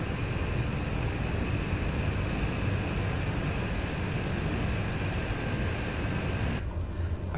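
A Cessna 208 B Grand Caravan taxiing in Microsoft Flight Simulator gives a constant loud turboprop drone and broadband rumble, cutting to a quieter muffled sound near the end.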